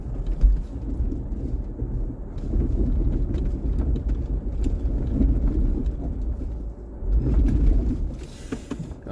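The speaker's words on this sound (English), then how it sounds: "Let's try driving through this frozen puddle." A vehicle splashes through a frozen puddle, breaking the ice. The crunch and heavy watery churning come in bursts over a low engine rumble, with a stronger surge near the end.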